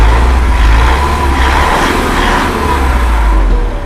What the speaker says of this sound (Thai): เดี๋ยวให้พี่ปอนไปเร่งเครื่องดีกว่านะคะ